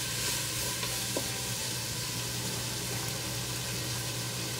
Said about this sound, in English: All we're doing is getting a little sear on it